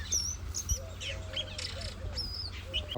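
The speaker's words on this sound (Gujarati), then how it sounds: "એવા કિલ્લોલ કરી રહ્યા જો પક્ષીઓ મસ્ત હો" Several small birds chirp and tweet in quick, bright calls close by, over a low steady background hum, with no talking.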